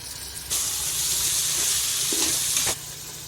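Crushed shallots tossed into a hot pan of fried onions and green chillies for chicken biryani: a sudden loud hissing sizzle bursts up, holds for about two seconds, then cuts off sharply.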